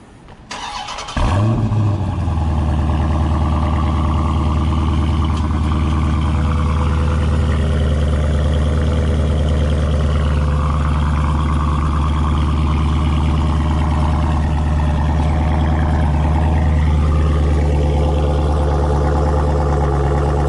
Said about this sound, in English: I'm going to go ahead and start it up.